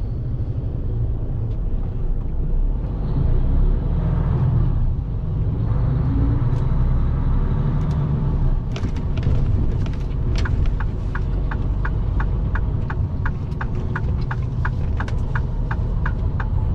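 A long-haul truck pulls away and accelerates in Europe after a ferry crossing to Sweden, its loud, steady engine rumble rising under a constant drone, with a run of faint regular ticks in the second half.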